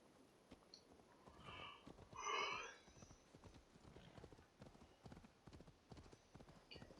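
Horse hooves clip-clop steadily in Assassin's Creed Valhalla, a snort or whinny rising briefly in the middle, with a game soundscape around it.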